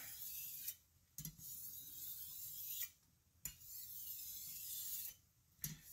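A barbecue knife dragged gently back and forth across a whetstone to smooth the burr, giving soft repeated rasping strokes, each a steady scrape lasting about a second or more with short pauses between, close and quiet.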